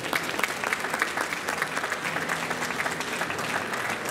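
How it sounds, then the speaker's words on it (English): A crowd at a corporate signing ceremony between two hotel companies claps steadily, a continuous, fairly close patter of many hands with slight swells in loudness, with no one speaking over it. "please give both companies a big round of applause"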